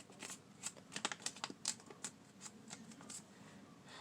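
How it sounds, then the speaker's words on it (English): A square paper sheet is folded into a triangle, making quiet crisp crinkles and rustles in an irregular series of close, soft taps and creases. "you're going to take one of your square sheets and you're going to fold it into a triangle"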